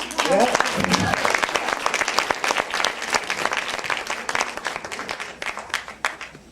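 An audience at a fall consortium gathering breaks into loud applause that begins with a voice at the start, then thins into scattered, fading claps.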